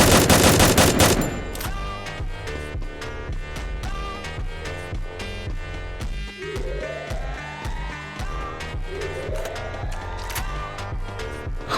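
Gunfire in the Free Fire video game, a loud opening burst of rapid automatic shots followed by repeated quick volleys and single shots, with whooshing sweeps and game music underneath.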